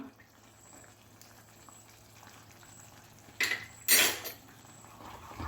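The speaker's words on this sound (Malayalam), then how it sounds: "നല്ലതുപോലെ ഇളക്കി കൊടുക്കാം" A spoon stirring badam halwa, an almond and ghee sweet, in a pan, with faint soft scraping followed by two brief clinks of metal against the pan over a low steady background hum.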